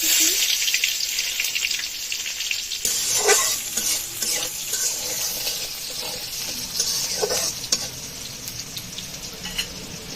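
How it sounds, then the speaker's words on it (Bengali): Onions fry in hot oil with black cumin, cumin and dried chili. A loud, close sizzle runs throughout, broken by repeated stirring scrapes and a sharp jump in hiss as the onions go in. "তেলটা ভালো মতো গরম হয়ে গেছে এখন ফোড়ন দিয়ে দেবো ফোড়ন তো হয়ে গেছে এখন দিয়ে দেবো পেঁয়াজ"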